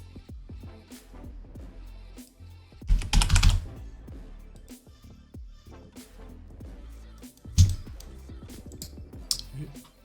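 Bursts of clicky computer keyboard typing while working in Blender, quick close keystrokes in short runs with louder clusters, under someone speaking French.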